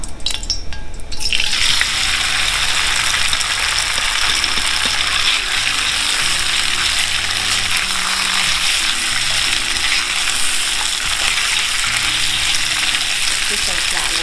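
Oil crackles and sizzles loudly in a hot, smoking wok for beef chow fun, a dense steady roar running throughout with rattling, clanking strokes of stirring underneath.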